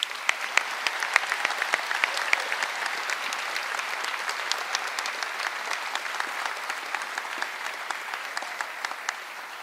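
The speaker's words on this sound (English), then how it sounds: "Let's give our graduates one more round of applause." Sustained applause from a large crowd at a university nursing pinning ceremony, steady dense clapping throughout with no pauses.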